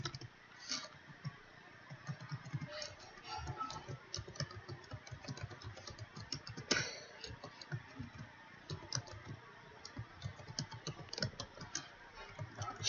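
Quiet, steady typing on a computer keyboard while writing HTML tags, with rapid irregular key clicks running throughout and one slightly sharper keystroke partway through.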